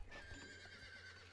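A horse neighs in the video game Star Stable Online, a newly bought Percheron, giving a single clear whinny over a steady low game hum, with no talk.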